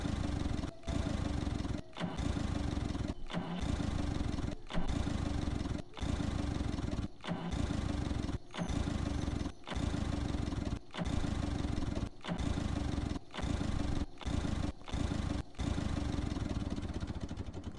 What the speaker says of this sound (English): Will this old Ferguson start up?